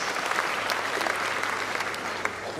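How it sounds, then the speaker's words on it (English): An audience at a university graduation ceremony applauds steadily, a dense, even wash of many hands clapping throughout with no break. "Let's give him another round of applause."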